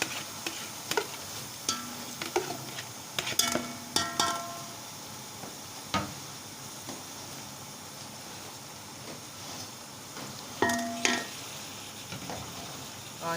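Leftover masala spooned into a pan of stuffed eggplant and stirred, a steady sizzle of frying broken by repeated scraping and clinks of a spoon against the pan, with no talk.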